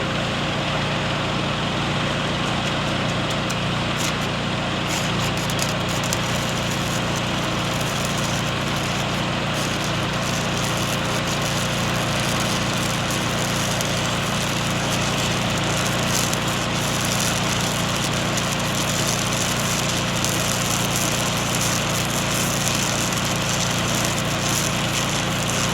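A farm tractor's engine runs steadily at a feedlot, a loud, continuous low rumble that holds through the whole stretch with no talk over it.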